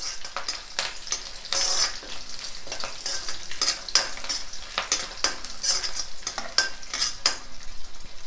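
Green and dried chilies frying in oil with onion and curry leaves, a continuous close sizzle punctuated by frequent metal utensil scrapes and clinks against the pan, no voices.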